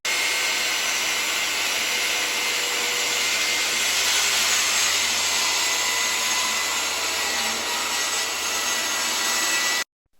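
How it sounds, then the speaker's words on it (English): A circular saw cuts through hardwood plywood in one continuous, loud, high-pitched whine that holds steady for about ten seconds, then stops abruptly. "whilst ensuring that our saw blade spins freely before it engages the hardwood plywood, and if possible, engineer a continuous cut"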